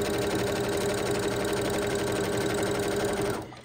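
A sewing machine stitching a quilt seam runs steadily in a continuous mechanical whir, close and fairly loud, stopping abruptly at the end.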